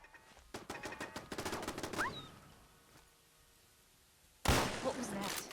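Explosive-round gun firing in the video game Fallout 4 with a Wasteland Reborn gameplay overhaul modpack, a rapid burst of shots, a quieter lull, then another loud crack and burst.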